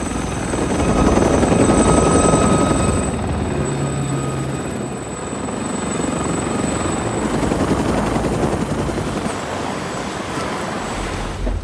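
Helicopter in flight in an action film, a steady loud rotor and turbine roar with rushing wind noise that holds throughout, swelling slightly as it passes.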